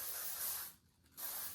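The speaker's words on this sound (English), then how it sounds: "And then just get some texture spray, just give it a little spray" Texture spray hisses from an aerosol can onto styled hair in two bursts, a longer spray followed by a short pause and another close, steady hiss.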